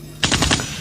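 A quick burst of rapid gunfire sound effect, four or five sharp cracks in a fast run lasting under half a second, loud and close, with no talk over it.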